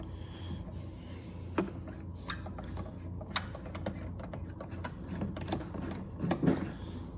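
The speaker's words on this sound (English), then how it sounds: "Need the T30 or torque, and then let's do unscrew it." T30 Torx tool unscrewing the side mirror bolts on a BMW i8, a series of small close clicking and ratcheting ticks at an irregular pace over a quiet background, with no talking.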